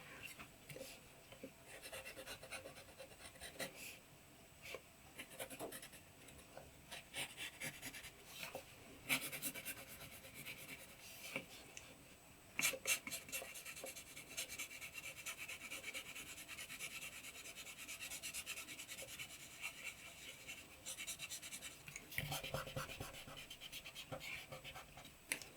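A pencil shades the nose of a drawn human face on paper, a faint continuous scratchy rasp of close strokes with occasional louder scrubbing passes.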